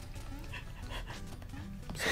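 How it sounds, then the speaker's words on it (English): Heavy, rhythmic panting from a character in the video game Shovel Knight, with King Knight in play, steady and close over a busy game soundtrack, swelling louder at the very end. "Heavy breathing."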